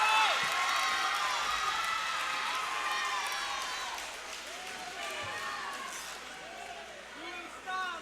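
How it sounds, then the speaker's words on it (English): A boxing crowd roars and whoops after a knockdown at a Friday Night Fights bout, a dense, loud, sustained wall of cheering that eases slightly toward the end. "He scores a knockdown. The crowd is going crazy."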